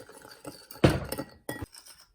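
Gelatin being stirred with hot water in a glass dish gives a few clinks and scrapes of a utensil against the glass, close and fairly loud, with no talk.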